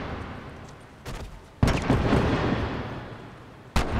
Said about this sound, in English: You guys are still firing, but what are you firing at?